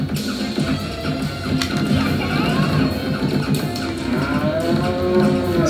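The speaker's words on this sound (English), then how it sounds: "Sort of cow. There we go, there's the cow." Cartoonish cattle mooing from a Sega CD game repeats in drawn-out bellows, loud and near, layered over dense game music and clattering effects with no talking.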